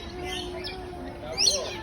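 Small birds chirping during feeding, thin high calls over a steady background hum, with a brief louder twitter near the end.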